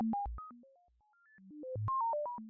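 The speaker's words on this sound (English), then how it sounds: "It's just step noise. Picks random values between 50 and 2000." SuperCollider oscillator whose pitch is driven by LFNoise0 step noise, jumping abruptly between random pitches from low to high in a quick, irregular sequence of clean electronic tones, alone and fairly quiet.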